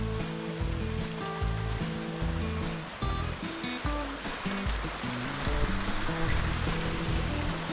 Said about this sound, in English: we are at the waterfall,